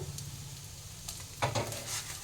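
Bitter gourd frying in very little oil in a pan, a soft steady sizzle with a low hum beneath and a couple of brief scraping stirs, close but quiet.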